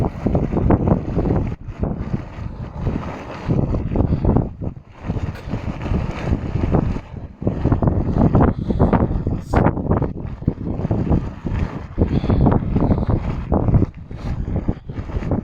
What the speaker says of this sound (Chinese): 风很大，对不对？